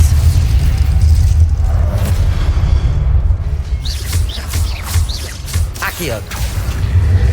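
Spell casting in the video game Hogwarts Legacy produces a dense mix of booms, whooshes and bursting pops over a constant low rumble, with a voice talking throughout.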